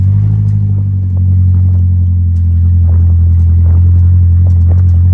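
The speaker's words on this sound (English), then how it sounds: "That exhaust is terrible" A loud, steady exhaust drone from a Crom 4.0 mega build, caged, cut and welded, holds a deep low rumble throughout with a slight swell partway, heard close and alone without any talk.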